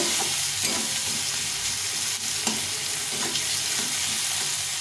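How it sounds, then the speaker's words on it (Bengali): Onions lightly frying in a pan give a dense, steady sizzle close up, with faint intermittent clinks and scrapes of a spatula throughout. "পেঁয়াজটা হালকা করে একটু ভেজে নেব"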